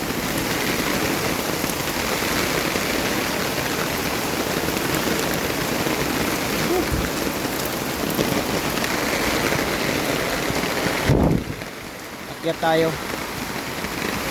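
Steady, heavy rain in Las Piñas pours and patters continuously, then abruptly cuts off near the end, leaving a few quieter knocks and distant sounds.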